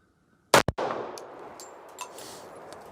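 A single sharp gunshot from a Global Defense 1911 .45 pistol firing 230 grain rounds, loud and close, with a quick echo and a ringing tail that fades outdoors.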